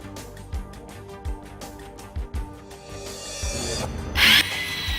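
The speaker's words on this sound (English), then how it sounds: "Drill holes with the drilling machine." A power drill bores into a wall in several short bursts to fix a split air conditioner's indoor unit bracket, then runs longer with a rising whine before a sharp loud grinding burst at the end.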